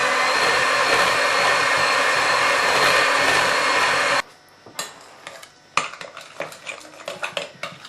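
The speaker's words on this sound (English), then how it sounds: "just give it another quick whisk just to incorporate it." Homemade mayonnaise is whisked hard in a bowl, a loud continuous whirring rush for several seconds that cuts off abruptly, followed by scattered metallic taps and clinks against the bowl.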